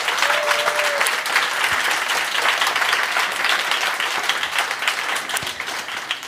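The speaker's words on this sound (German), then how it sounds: "Und bitte nochmal einen Applaus" Sustained applause from a sizeable crowd at a Women in Tech Night closing, dense steady clapping filling the space without a break for several seconds.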